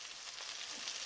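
King fish fries in oil in a pan, giving a steady, close, hissing sizzle that runs evenly through the brief moment with no voices.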